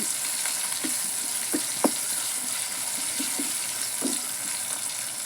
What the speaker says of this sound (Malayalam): അതുവരെ നന്നായിട്ടൊന്ന് വഴറ്റിയെടുക്കണം